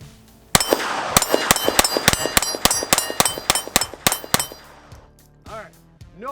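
A Sig Sauer P322 .22 pistol firing Aguila rounds in rapid succession at steel targets, about a dozen sharp shots each followed by a ringing metallic clang, then a brief voice afterward.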